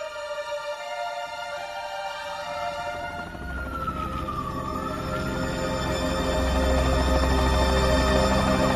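Emergency vehicle sirens from ambulances and fire engines wail in the distance, a slow rising and falling tone over a dense rumble that grows steadily louder and nearer.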